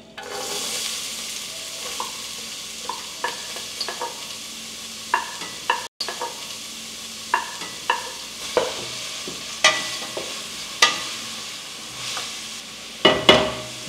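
Onions sweating in olive oil in a pan while being stirred, a soft steady sizzle under a string of close, regular scraping clicks of the utensil against the pan.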